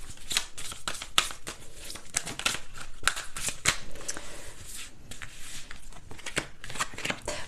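A deck of tarot cards is shuffled for a weekly reading, with rapid riffling flutters and sharp slaps repeating steadily and close up, no voices.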